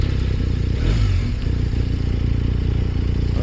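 A BMW motorcycle engine, from an R 1250 RS or S 1000 XR, idling close by with a steady low throbbing rumble and a brief swell of revving near the start.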